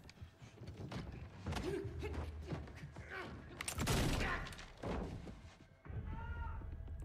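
Gunfire from a battle scene in the TV series Shōgun, with scattered shots and bursts mixed among overlapping voices and dramatic noise, loud and busy throughout.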